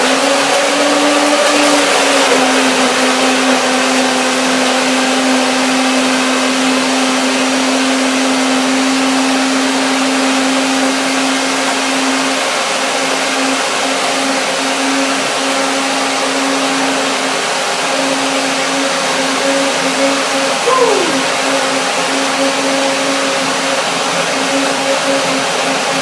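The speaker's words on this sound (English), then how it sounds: "So I will try that now with the resin nuts again and with the bananas and see what happens after the blending" A blender runs steadily at close range for the whole stretch, blending bananas and Brazil nuts into a raw vegan smoothie; a loud, even motor drone with a slight pitch dip near the end.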